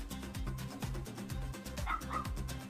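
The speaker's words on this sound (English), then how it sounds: "Can you hear my stupid ass dog outside?" A dog barks repeatedly in quick, yappy bursts, sounding muffled and somewhat distant as if from outdoors.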